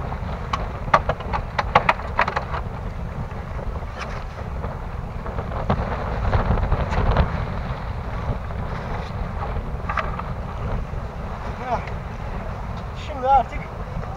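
Wind rushing past a sailboat under sail alone with the engine off, a steady blustery roar with gusty buffeting on the microphone, while someone talks over it.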